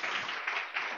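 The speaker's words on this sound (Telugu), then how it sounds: "గట్టిగా చప్పట్లు కొడదాం" A church congregation in Guntur claps loudly and steadily, a dense burst of hand claps swelling in a few waves across one second.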